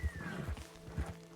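A horse in the Western open-world game Red Dead Redemption 2 clip-clops at a steady walking pace close by, with a soft whinny mixed in over quiet ambient game sound.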